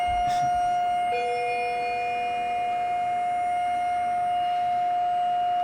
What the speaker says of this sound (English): Sounds like a tornado siren.